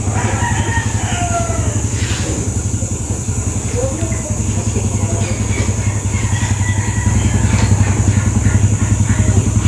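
A motorcycle that has sat unused for several days idles steadily while warming up, a loud, close, even low rumble that continues throughout with faint background sounds over it.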